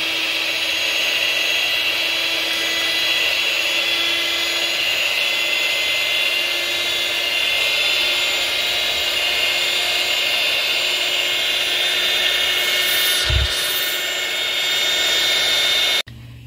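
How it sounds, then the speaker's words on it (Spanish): An electric mixer beating buttermilk cake batter whirs loudly at a constant high pitch for a long stretch, with a brief bump near the end before it cuts off. "procedo con mi batidora a empezar a batir"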